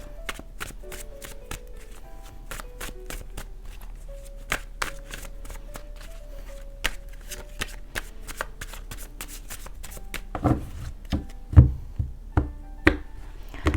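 A deck of tarot cards is shuffled again and again in a steady run of crisp riffles and slaps, close and clear, with a few louder, sharper snaps near the end and no voice.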